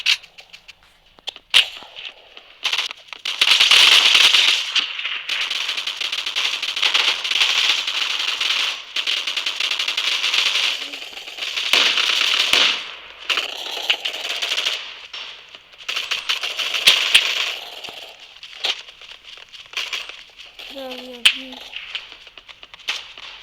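Gunfire from a weapon in the video game Gun Fight Arena comes in rapid rattling bursts, some long and some short, repeated across more than twenty seconds with brief pauses and a few electronic game tones.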